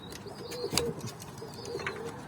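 Pigeons give soft, low coos near a coop, a few short calls rising over steady background noise, with faint higher chirps mixed in.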